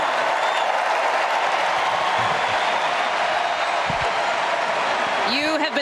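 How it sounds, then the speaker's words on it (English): Big, sustained applause and crowd noise filling the arena at the Democratic National Convention in the United Center, a steady roar of clapping with faint voices beneath it. "Congresswoman Alexandria Ocasio-Cortez getting big applause from inside the room here at the United Center."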